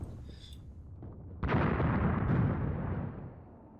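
A mortar round lands with a single heavy, booming blast in the Graviteam Tactics war game, its rumbling roar lingering and slowly fading after a quieter stretch with a faint high whine.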